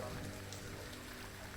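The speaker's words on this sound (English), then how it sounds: "It's just driving rain and everything's sodden." Heavy driving rain during a wet ride on a Ducati Multistrada V2 motorcycle, a steady close hiss of rain spattering on surfaces with faint rumble underneath, no clear speech.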